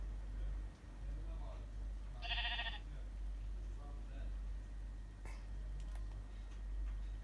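A sheep in the video game Minecraft gives a single short bleat, faint against a low steady background hum, with no other notable sounds.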